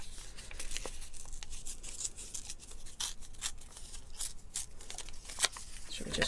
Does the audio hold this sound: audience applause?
no